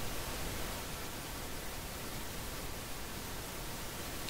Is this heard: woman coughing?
no